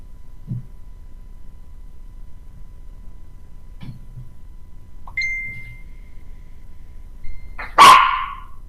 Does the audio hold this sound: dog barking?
yes